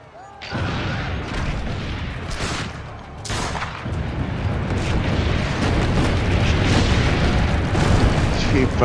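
Heavy booming cannon fire and explosions from battlefield cannons in Assassin's Creed Brotherhood, loud and continuous with dense rumbling bursts, mixed with game voices and a player talking over the din.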